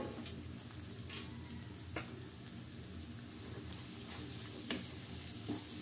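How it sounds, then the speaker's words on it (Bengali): Sliced onions fry in a pan for a mutton curry, giving a steady, close sizzle that stays even throughout. A few soft scrapes and taps of stirring break through now and then. "খুব ভালো করে পেঁয়াজগুলো ভেজে নেব"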